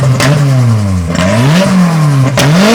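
A Nissan S14 drift car's engine revs hard through a very loud exhaust, rising and falling in repeated blips close to the microphone.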